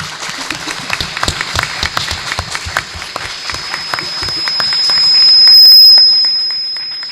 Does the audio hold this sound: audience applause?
yes